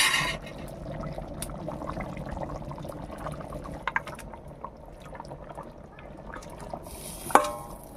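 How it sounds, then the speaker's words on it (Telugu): Chicken pieces go into a simmering pot of Kerala-style chicken curry, giving soft wet splashes and bubbling liquid sounds, with a brief clatter near the end. "ఇప్పుడైతే మా బాబాయ్ చికెన్ వేస్తున్నాడు"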